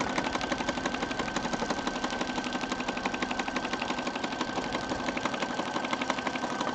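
A sewing machine drives its needle through two layers of denim and two of cardstock, a close, loud and even rhythmic thumping chatter that runs without pause and with no voices.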